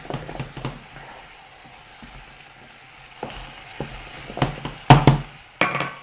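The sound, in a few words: vegetables browning in a pan for chicken colombo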